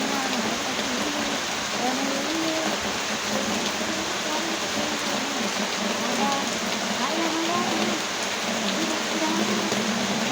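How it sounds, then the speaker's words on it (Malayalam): Rain falls steadily outdoors, a constant even hiss of drops. Soft indistinct voices murmur underneath throughout. "മഴയത്ത്"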